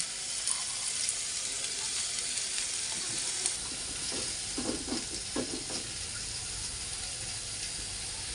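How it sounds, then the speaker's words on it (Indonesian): Chinese betel leaves being stir-fried in a pan until wilted, a continuous sizzle with a cluster of scraping spatula strokes in the middle, no talking. "kita tumis sampai layu"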